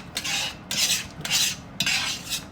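A utensil scrapes and stirs across the bottom of a pan while deglazing a cider braise for pork chops, making four distinct rhythmic scraping strokes, close and fairly loud, with no talking.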